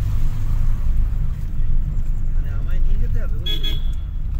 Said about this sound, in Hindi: देखो चल रहा है गाड़ी